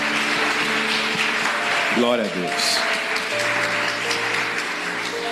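A church congregation claps steadily during worship, a dense, even patter that runs through the whole stretch, with a voice calling out praise and a sung or drawn-out vocal phrase over the applause.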